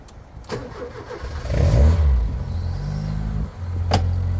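A cold 1.4-litre Ford Orion engine cranks briefly and catches, rising to a loud start before settling into a steady, close idle with no voices.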